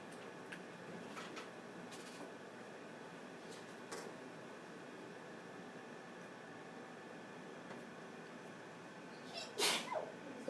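A single sharp sneeze bursts out near the end over a quiet, steady background hum, brief and moderately loud.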